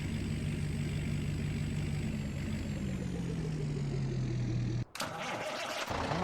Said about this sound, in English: this truck's kind of loud